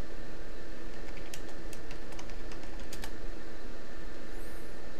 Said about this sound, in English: I never could type in my password right the first time